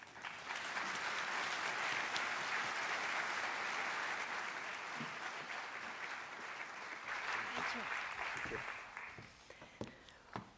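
A conference hall audience at an NIH lecture on CRISPR genome surveillance claps steadily and warmly for about ten seconds, a full sustained round of applause that thins out toward the end.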